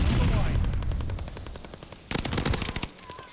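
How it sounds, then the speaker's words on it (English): In the Call of Duty: Vanguard video game, a friendly bombing run rumbles in with heavy low booms, then a dense burst of rapid automatic gunfire rattles loudly for about a second before fading. "Friendly bombing."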